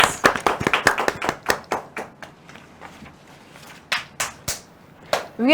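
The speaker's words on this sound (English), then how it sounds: "Please give a huge round of applause for all our participants." Scattered hand claps from a quiz competition audience, a burst of quick uneven claps that thins out, pauses and then returns in a few sharper claps, fairly close and sparse rather than a full crowd.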